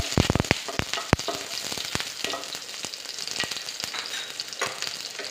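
Two green chilies frying in hot oil with urad dal for wheat rava upma, a steady close sizzle with sharp crackling pops bunched near the start, then continuous hissing spatter with no talk.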